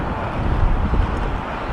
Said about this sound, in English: Gusts are getting up there a bit.